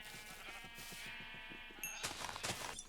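Sheep bleating in the Minecraft video game near a sheep pen on a hardcore world, several overlapping bleats over a busy game soundscape, moderately loud and with no talk.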